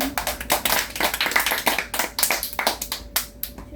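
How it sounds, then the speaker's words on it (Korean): A church congregation claps during a Sunday worship service, producing a run of distinct, fairly even claps in a steady rhythm, moderately loud and close. "박수."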